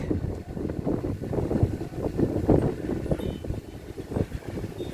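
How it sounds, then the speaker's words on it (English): Gusty wind on a balcony buffets the microphone in a constant low rumble, rising and falling in uneven blasts. "It's quite windy today, actually."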